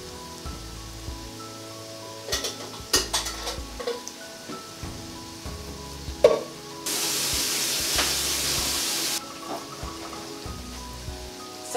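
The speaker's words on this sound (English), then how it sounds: "So just give that a quick stir." Cajun rice mixture stirred in a hot pan, with light scrapes and clinks followed by a steady, close sizzling hiss that swells for a couple of seconds before settling back to quieter frying.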